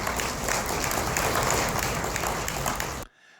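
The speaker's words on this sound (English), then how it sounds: "A fairly nice size part of the crowd gave some claps there." Dense audience applause from a sizable part of a debate crowd, steady and loud for about three seconds before cutting off abruptly into silence.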